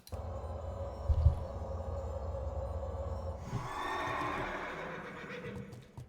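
A horse neighs once in World of Warcraft Classic, a short loud whinny over steady game ambience, followed by a shift in the background sound.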